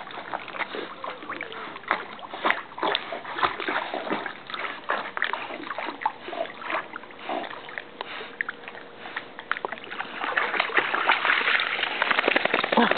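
Water splashing and sloshing at night as a dog swims in a lake, close and irregular, with occasional sniffing and louder splashes toward the end.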